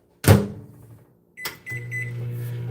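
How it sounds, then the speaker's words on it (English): A kitchen microwave oven heating tortillas: a door clunks shut, keypad beeps chirp in a quick run, then a steady low hum starts and holds. "What I do is I pop these tortillas in the microwave for about 2 or 3 minutes tops."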